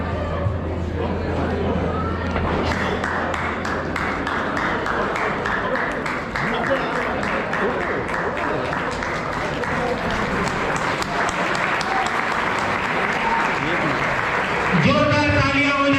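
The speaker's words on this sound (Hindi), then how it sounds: "जोरदार तालियां हो जाए।" Audience applause at a Maheshwari community Deepavali stage gathering, steady dense clapping filling the hall for the whole stretch with crowd murmur underneath, alone without clear talk over it.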